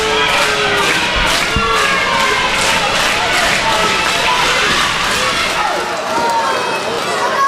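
A wrestling crowd in Canton, Texas cheers and shouts continuously, a loud busy roar of many voices with scattered yells and thuds, nearby and sustained.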